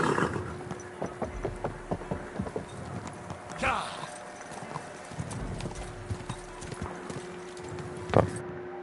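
Hoofbeats of a horse ridden in a video game clop in a steady rhythm, close and fairly clear, with a brief whinny-like burst partway through and another sharp sound near the end.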